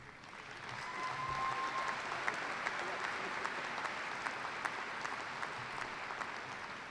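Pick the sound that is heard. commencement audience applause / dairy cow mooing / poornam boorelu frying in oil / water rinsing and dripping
commencement audience applause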